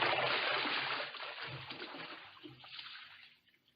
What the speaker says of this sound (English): Well, I'll wait out and get it. Let me do it, Tom. My boots is higher than yours. The water's kind of shallow